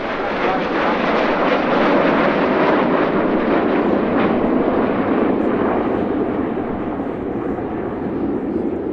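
Red Arrows display jets climb high at an airshow, their engines producing a continuous loud roaring rush that holds steady throughout with no break.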